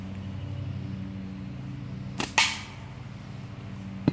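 A slingshot is released with a longer draw, giving one sharp snapping crack followed by a brief whooshing release, close by and fairly loud against a steady low background hum.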